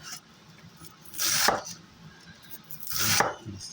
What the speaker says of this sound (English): we're going to chop this lettuce up real quick